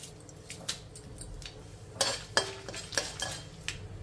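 Dry red chillies are broken into tempering spices with cumin in a pan, a soft crackle and sizzle under scattered clinks and scrapes of a spoon against the pan, quiet and close.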